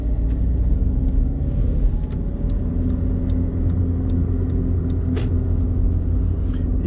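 A Skoda Fabia TDI diesel engine drones with a steady low rumble from inside the cabin while the car accelerates on the road, its tone staying fairly constant and smooth throughout.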